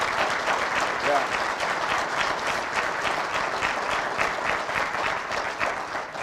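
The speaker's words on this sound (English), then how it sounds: "Give yourself a round of applause." An audience at a summit on caring for vulnerable children breaks into sustained applause, a dense, even wash of clapping from a crowd that lasts throughout.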